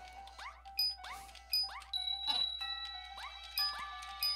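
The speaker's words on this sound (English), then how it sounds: "Alright then, Carol of the Bells remix." Tinkling bell-like melody from a Carol of the Bells remix in Secret Maryo Chronicles, with quick repeated chiming figures and light ding accents, fairly quiet and alone.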